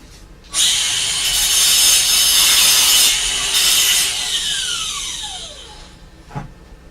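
An angle grinder cuts metal in a car engine bay during shaving work, a loud harsh sustained screech lasting several seconds with pitch shifts as pressure changes, then spinning down with a falling whine and a final clank.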